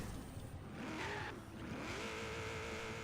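A racing video game car engine in Forza revs up and down in pitch, rising sharply before settling into a steady, whining drone.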